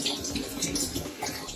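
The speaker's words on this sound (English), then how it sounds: "I proceed to rinse with warm water." Warm water runs steadily while hair is rinsed on a wash day, a continuous close splashing rush with slight fluctuations and no talk.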